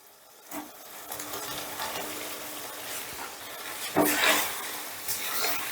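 Spices, tomato and fried potatoes are stir-fried in a pan with a soft background sizzle, irregular spatula scrapes and louder stirring bursts midway, along with faint voice-like sounds.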